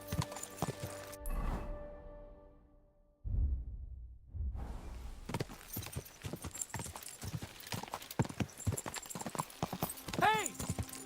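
Rhythmic hoofbeats of a galloping horse in a video game with a whinny near the end, amid game sound effects and people talking excitedly over it.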